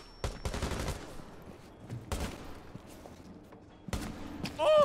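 Gunfire in a first-person shooter video game, several sharp separate shots spaced a second or two apart, loud and close against quiet game background, with a short burst near the end.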